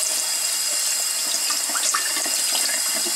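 Water runs from a small indoor home fountain, a close, steady splashing trickle that continues evenly for a few seconds with no voices over it.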